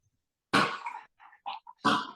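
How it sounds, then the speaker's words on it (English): A dog coughs loudly and close by in two harsh bursts, a short spell of smaller hacks and snorts between them, indoors during an interview. "Where dogs are coughing that loudly"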